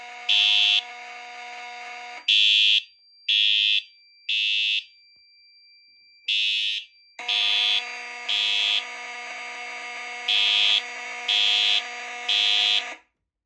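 A fire alarm system sounding during a panel test, with loud electronic horn blasts in short irregular groups over a continuous tonal drone, close and clear with no talking.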